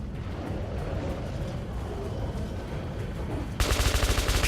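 Gunfire in the video game Metro 2033 Redux: after a rumbling ambient stretch, a loud rapid burst of automatic shots crackles in close succession at the end.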